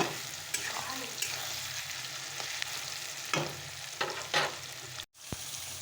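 Onion, tomato, green and dried chillies, cinnamon, cumin and mixed whole spices frying in a pan at home, a steady close sizzle with occasional stirring scrapes and a brief pause near the end.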